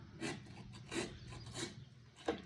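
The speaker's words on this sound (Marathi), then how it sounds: "दुसरा आंबा घेतला आहे रायवळ आंबा आणि पूर्णपणे कापून घेणार" A knife slicing through a raw Raywal mango for homemade Malvani-style pickle, with soft scraping cuts repeated at a slow, uneven pace, close but faint, and a sharper tap near the end.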